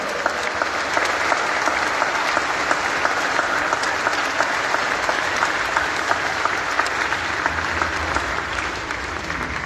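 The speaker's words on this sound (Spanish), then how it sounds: "¡Fuerte, fuerte los aplausos!" Vigorous applause from a congregation inside a parish church during a solemn Easter Vigil, a thick sustained roar of clapping with crisp individual claps, loud and steady from start to finish.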